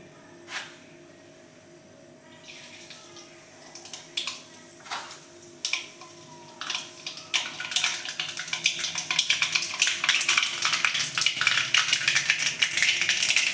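Mustard seeds dropped into hot oil for tempering while making stuffed brinjal; scattered sharp pops at first, quickly building into a dense, loud crackling sputter that continues to the end.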